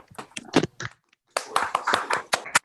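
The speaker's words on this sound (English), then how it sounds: "if everybody could please unmute and applaud Dean and Professor Donna Young" An online audience on a video call claps in two short scattered bursts separated by a brief gap, with some voices mixed in.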